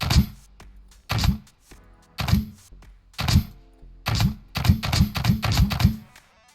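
A spud gun in the building game Scrap Mechanic fires repeatedly at a resilient block, each shot a sharp punchy thunk. Roughly ten hits land in uneven bursts that speed into a quick cluster near the end, close and clear with no speech.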